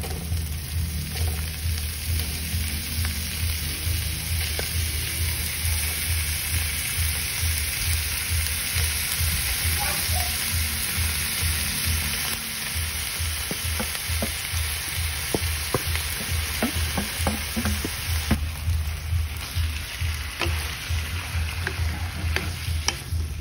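Ground beef and onions sizzle steadily in a pan while a utensil scrapes and stirs in repeated strokes, a constant close frying hiss throughout with no talking.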